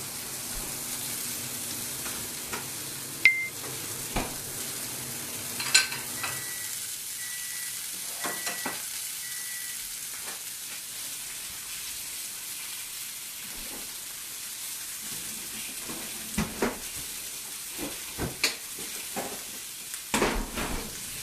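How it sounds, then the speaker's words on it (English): Spinach and asparagus greens sizzle and wilt in a frying pan over turned-down heat, a steady soft frying hiss with occasional clinks and stirring knocks. "The pan gets turned down when the greens go in. And then I can just get those a little bit wilted."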